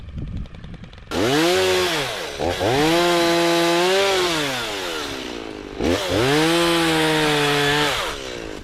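A chainsaw cutting brush and alder along a farm fence line, with loud revving bursts that rise and fall in pitch as the saw bites and eases, two long cuts separated by a brief dip.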